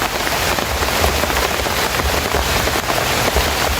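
Dense, steady hiss of heavy rain pattering on a surface, continuous and close, with no voices.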